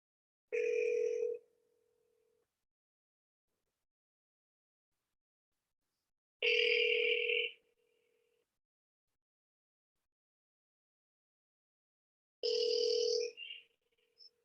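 Outgoing cold calls to property sellers, with a telephone ringback tone sounding in three separate bursts about six seconds apart, each roughly a second long, clear and alone against silence.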